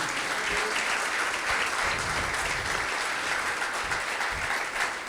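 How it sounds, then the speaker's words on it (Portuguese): Congregation applause for Jesus at a church service, a loud, dense and even burst of many hands clapping that carries on steadily with no voices heard. "Dê uma salva de palmas a Jesus"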